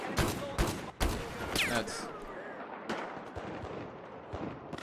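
Battlefield 4 gunfire rings out in several loud bursts near the start, with sharp reports and echoing tails, then thins to sporadic distant shots; someone speaks briefly in Turkish.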